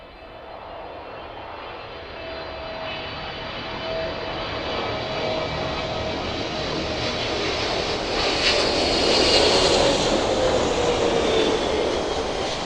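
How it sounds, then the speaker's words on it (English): Airplane landing at East Midlands Airport with reverse thrusters deploying, a sustained jet engine roar that slowly swells and rises in pitch as thrust builds, heard from a distance in open air. "Safely touching down as well. Those reverse thrusters just deploying."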